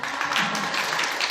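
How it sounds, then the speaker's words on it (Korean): Applause from a lecture audience in Changwon welcoming a National Assembly member to the stage, a steady wash of clapping that stays at an even level through the short stretch. "큰 박수로 모시겠습니다."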